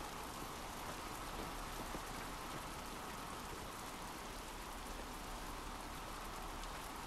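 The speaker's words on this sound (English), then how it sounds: "Oh, I love it when it rains in games." Rain in The Last of Us video game falls as an even, soft hiss of drops on surfaces, continuous and quiet throughout with no voices.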